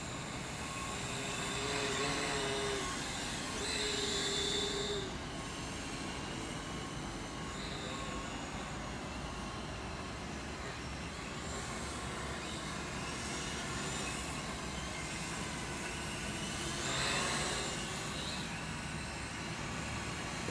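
A Syma X6 quadcopter drone flies at its second speed setting, giving a faint, steady whirring whine that swells slightly now and then and goes on without talk.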